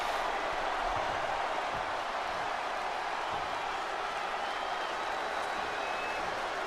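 Steady, dense roar of an arena crowd cheering and applauding in WWE 2K20, a broad continuous wash of noise at constant level throughout, with no distinct claps standing out.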